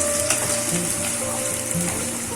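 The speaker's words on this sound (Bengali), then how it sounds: "দিয়ে মধ্যে ভালো করে ফ্রাই করতে হবে" Onions fry in a pan for a masoori chicken curry, a loud, dense and continuous sizzle heard up close with no break and no talk.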